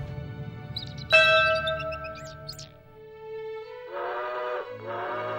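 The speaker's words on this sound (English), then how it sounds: "The clear and vibrant stroke of the bell traveled through a hundred years" A single clear, vibrant stroke of a bell on the historic Nanjing University campus rings out loudly, then its tone hangs and decays slowly, with other sounds entering near the end.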